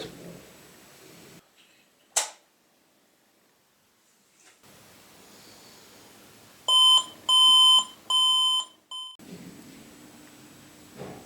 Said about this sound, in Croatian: Čuli ste moj alarm? Ono je stvarno tiho, ali budi iz mrtvih.